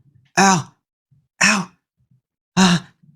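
A voice imitates heavy breathing during a spoken story, producing three loud, separate breathy gasps or groans spaced about a second apart, with near silence between them.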